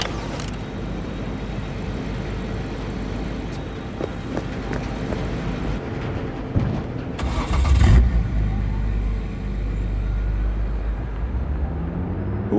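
A car in Cyberpunk 2077 starts and pulls away, with engine rumble and a revving surge near the middle, then a steady low drone as it drives off; faint background sounds and no clear talk.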